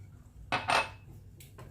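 A utensil scraping and clinking against a bowl while basbousa cake batter is stirred, two close, bright strokes followed by a few lighter taps, with no voices.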